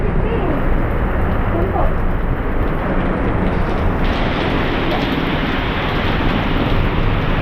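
Heavy rain pours down in a steady, dense roar that fills the whole clip without letup, loud and close, with occasional voices underneath.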